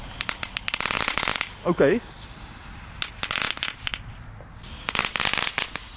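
Small crackling firecrackers (knetterslagen) go off in dense bursts of sharp rapid crackles, repeating in several clusters, with a person speaking briefly between them.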